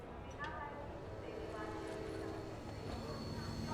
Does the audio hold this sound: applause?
no